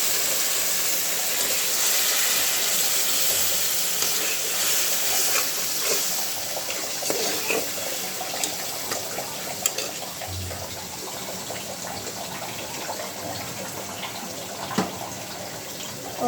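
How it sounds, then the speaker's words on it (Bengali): Water splashes and hisses steadily into spices frying for biryani in a pan, a continuous close sizzle and pour running alone for the whole stretch. "একটু জল দিয়ে দিব"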